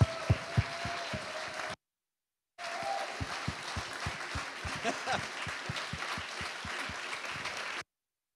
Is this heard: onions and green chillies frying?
no